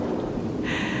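Steady rain falls in a continuous, even hiss with a soft low rumble underneath, close and loud throughout, and a brighter upper wash swells in during the final moments; no one speaks.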